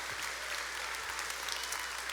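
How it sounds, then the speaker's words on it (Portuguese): Church worshippers clap vigorously in a continuous, even burst of applause that fills the room at moderate distance, with no voices rising above it. "Aplauda forte, aplauda forte."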